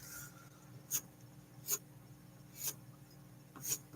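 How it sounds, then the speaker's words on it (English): Pencil scratching on paper in a quiet ASMR setting, with four short, close, crisp strokes spaced about a second apart over a faint background hiss. "Here's a pencil. Let's hear what you're talking about."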